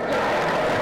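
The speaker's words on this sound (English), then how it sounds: "can you clap for me?" Lecture audience applauding at an engineering academy annual lecture, a dense steady wash of many hands clapping together, loud and continuous with no voices over it.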